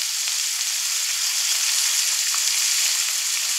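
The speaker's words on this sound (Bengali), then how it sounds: "হলুদ দিয়ে মিডিয়াম ফ্লেমে ভেজে নেব" Chunks of raw green banana, red potato and ordinary potato fry in oil with salt and turmeric over a medium flame, a dense, constant, close sizzle with no pauses and no voices.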